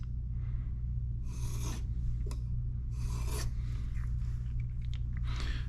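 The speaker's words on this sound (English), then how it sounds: "So just light pressure, let the stone do the work of removing the metal." A Mora knife blade scrapes across a whetstone with light pressure in repeated rasping strokes, several short bursts at an uneven pace over a steady low background hum.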